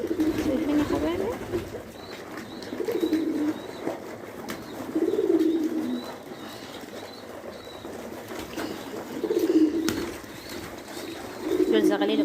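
Adult pigeons and their squabs coo in repeated low, soft bursts every few seconds, with faint chirps and rustling around them and a voice speaking quietly under the birds.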